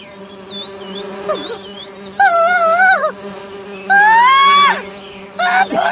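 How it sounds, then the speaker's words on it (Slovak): Large bees buzz close by with a droning, warbling whine that rises and falls in pitch in several loud bursts over a steady low hum. "ty tvoje včely tak dobre pichajú, sú také veľké"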